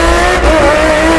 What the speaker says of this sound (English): You can't hear your friends telling you to stop because the exhaust is so loud.